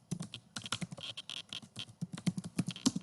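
Rapid, uneven keystrokes on a computer keyboard as a file name is typed, close and clear, with no talking over them.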